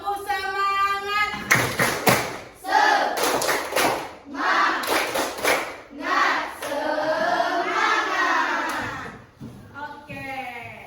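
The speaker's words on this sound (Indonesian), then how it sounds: "kita tepuk semangat dulu ya" A class of students doing the tepuk semangat spirit clap, sharp rhythmic hand claps in quick patterned bursts mixed with loud group chanting and shouting voices.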